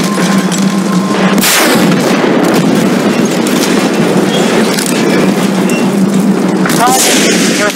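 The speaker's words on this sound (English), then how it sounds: "Damage it with the RPG." An RPG fired at a T-90 tank in the Battlefield Mobile video game, heard as loud, dense combat noise with a sharp blast burst early on and another near the end.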